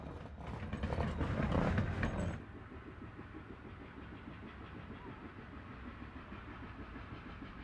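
A narrow gauge steam locomotive on the Durango and Silverton line works hard up a steep climb. A loud rushing burst gives way to a steady, rhythmic beat of stack exhaust chuffs.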